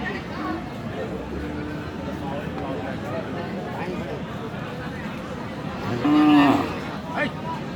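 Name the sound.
cattle at a livestock market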